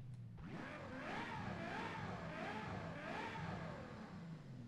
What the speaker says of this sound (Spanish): vamos a arrancar el coche para escuchar este V12 híbrido